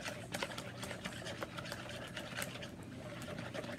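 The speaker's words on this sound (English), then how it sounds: "So I'm just gonna whisk that for a minute, get those eggs incorporated in with the butter." Eggs and melted butter whisked together in a bowl for low-carb banana nut bread, a steady rapid clatter of whisk strokes running throughout, close and fairly quiet.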